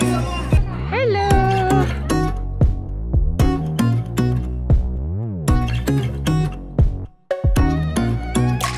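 Cats meow repeatedly at a petting animal garden, short rising and falling calls scattered through steady chatter from nearby visitors.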